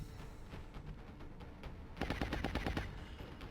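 Bursts of suppressive automatic gunfire in the turn-based strategy game XCOM: Enemy Within, Long War mod, during a mission at a landed alien abductor craft. A rapid volley of about eight sharp shots comes in the second half, loud and alone over a low ambient bed.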